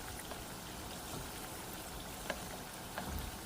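Six flautas frying in a pan, giving a steady, even sizzle with faint crackles and pops, alone and without talk.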